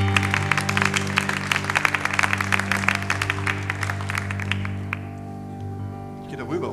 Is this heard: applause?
yes